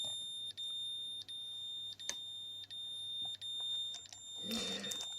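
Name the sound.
dosimeter alarm beeping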